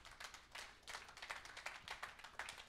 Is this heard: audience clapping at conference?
yes